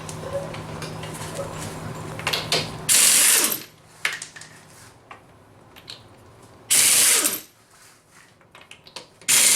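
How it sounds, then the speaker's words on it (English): A 2003 Ford Mustang V6 is raised on a jack for front brake work. Repeated ratcheting clicks and mechanical clatter are broken by several loud, harsh bursts, close by with no talking. "First thing to do, get it jacked up."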